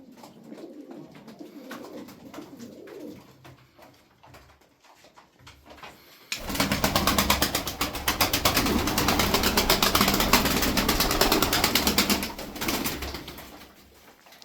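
Zil Arap tumbler pigeons coo close by, soft throaty calls at first, then a louder stretch of dense, rapid fluttering and rustling for several seconds before it eases off, with no talk.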